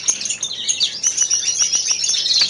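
A greenfinch cock bird in a show cage chirps and twitters continuously and close by, a busy run of bright, rapid calls with no other sounds.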